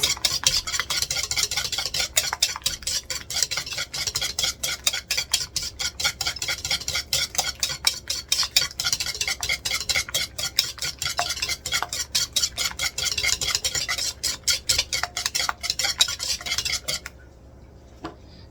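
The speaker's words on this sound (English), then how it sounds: "4 teaspoons of sugar. And we're going to give that a good mix." A spoon beats sugar in a bowl as the base for Norwegian fattigmann Christmas cookies, giving rapid, regular scraping clicks for most of the stretch before it stops abruptly near the end.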